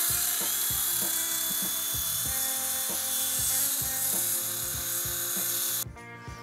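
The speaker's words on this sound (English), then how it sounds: "I'm gonna use my mini belt sander to take care of that." A mini belt sander grinds down the edge of a Toyota MK3 Supra front steering knuckle to clear a big brake kit bracket, a steady loud abrasive whir with rhythmic pulsing contact that cuts off abruptly near the end.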